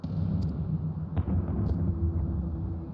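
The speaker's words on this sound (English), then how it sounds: "Cannon fire." Cannon fire rumbles through a Final Fantasy XIV game scene, a few muffled booming reports with a sharper crack near the middle over a steady low din.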